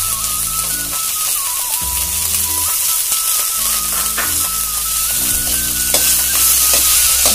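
Chopped carrot is stirred into bread upma frying in a pan, a steady loud sizzle with scraping and clinking of the spoon against the pan, no voices.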